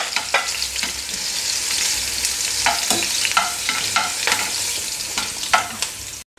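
Three chopped green chillies fry in oil left over from frying bitter gourd for kichadi, giving a steady close sizzle broken by repeated scraping stirs of a spoon in the pan.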